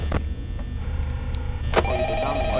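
A telephone rings in the Five Nights at Freddy's video game, a ringing tone heard over a steady low hum of game ambience, fairly loud and continuous.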